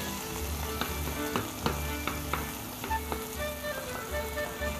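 Onion frying in a pan, a continuous sizzle with scattered sharp crackles and pops and a low bubbling underneath, steady and fairly close, no talk.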